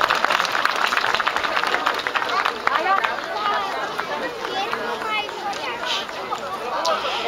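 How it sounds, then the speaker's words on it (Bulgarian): Audience applause at a show-jumping medal ceremony in Varna, a sustained patter of clapping from a crowd with murmured voices mixed in. "Аплодисменти"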